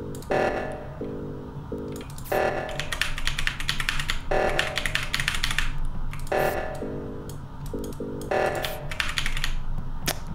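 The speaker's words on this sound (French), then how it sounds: "C'est pour ça que je m'excitais sur le clavier" A computer keyboard is hammered repeatedly during a game of Among Us, with rapid clattering bursts of keystrokes broken by short pauses, close and loud over a steady background tone and beeping game sounds.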